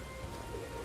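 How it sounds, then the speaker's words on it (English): Steady rain in the video game Metaphor ReFantazio, a dense, even hiss of falling water with a faint low rumble underneath, continuous and fairly quiet throughout. "Oi! This bloody rain."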